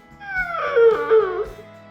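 A dog in a custom car garage howls and whimpers in one drawn-out, wavering cry, loud and close, with a steady low hum underneath.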